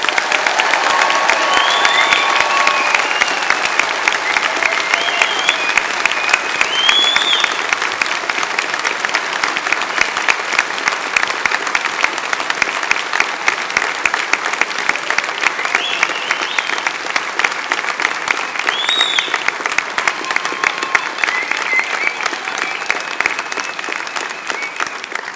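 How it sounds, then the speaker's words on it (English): A large audience applauds graduates at a university degree ceremony in Milton Keynes, with a dense, loud wash of clapping that holds steady for about twenty-five seconds and carries a few faint cheers. "Let's give them a round of applause."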